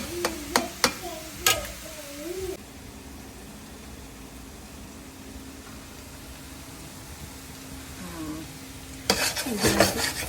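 Grated carrots for carrot halwa being stirred and roasted in a pan, with a few sharp spoon knocks at the start and end around a quieter stretch of faint, low frying hiss.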